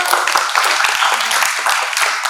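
Quick run of claps and applause from a classroom audience of vocational school students, dense and close with sharp irregular hand strikes.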